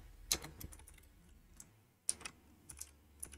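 Typing on a computer keyboard, sparse irregular key clicks, with a couple of sharper taps standing out among lighter presses, close and quiet, with no talking.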